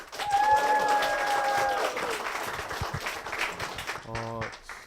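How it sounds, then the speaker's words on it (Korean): A church congregation gives dense, steady applause throughout a Korean worship service. A sustained tone sounds early on, and the clapping fades toward the end as a voice begins to speak. "박수를 맞아주십시오"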